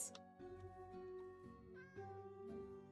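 Cats meowing in Minecraft, a white cat and a yellow cat, with several short tonal meows close together over a steady game backdrop.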